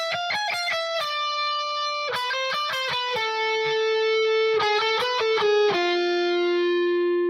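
Distorted electric guitar plays rock and metal lead phrases: quick runs of picked notes, each ending on a held, ringing note, repeated three times, loud and clear with no talking.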